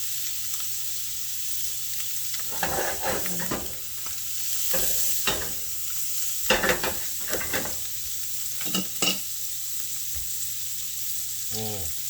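Garlic sautés in a pan with a steady sizzle, and intermittent stirring scrapes and clatters come close up without any talking.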